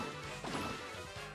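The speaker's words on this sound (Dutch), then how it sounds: "En even een klap met die hamer." A hammer smash in the Paper Mario: The Origami King video game lands as a single short crashing impact, followed by a few quick lighter knocks, alone and fairly faint.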